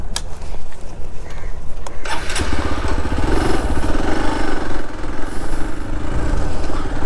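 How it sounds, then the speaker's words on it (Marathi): A motorcycle engine idles, then revs and runs steadily as the bike is loaded onto a jetty ferry on the coastal route from Dapoli to Guhagar, loud and close. "जेटीमध्ये आपली बाईक चढूया."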